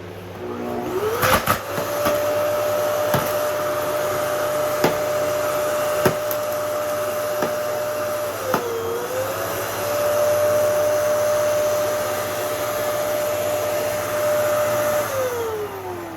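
A vacuum cleaner drones steadily at close range for the whole stretch, its pitch dipping briefly midway, with occasional knocks and bumps of the nozzle against surfaces.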